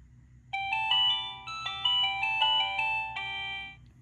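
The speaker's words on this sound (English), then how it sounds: "ice cream truck" Ice cream truck jingle played as a bright, tinkly electronic melody of repeated chime-like notes, steady and clear for several seconds with no talking.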